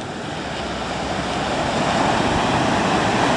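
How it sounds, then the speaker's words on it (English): Pacific Ocean surf rolls in as a steady, broad wash of breaking waves mixed with wind rumbling on the microphone, growing slightly louder over a few seconds, with no one speaking. "The Pacific Ocean."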